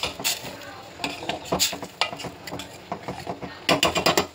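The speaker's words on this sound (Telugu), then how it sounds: "కొంచెం బెల్లం వేసుకొని మళ్ళీ కలపాలి" Spoon stirring a pot of cooking mixture after jaggery is added, with close, irregular scraping and clinking strokes against the metal pot, some brief sizzle underneath.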